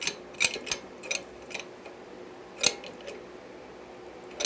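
Metallic clicks and short scraping clacks sound as a shop press drives a T56 transmission part down with a socket, several sharp separate hits spread unevenly over a few seconds with quiet between.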